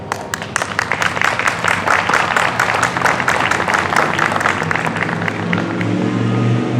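Audience applause welcoming candidates at a League of Women Voters forum for Minnesota House and Senate in Red Wing, a steady dense clapping from a crowd filling the room, sustained and loud throughout.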